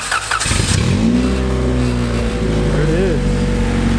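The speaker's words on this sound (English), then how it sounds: "let's see if it starts" A car that had been sitting with a weak battery cranks briefly, then catches and settles into a loud, steady idle close by.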